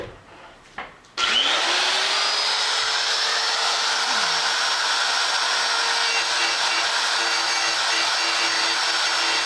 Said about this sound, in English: we'll just do that with the grinder